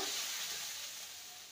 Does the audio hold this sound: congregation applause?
no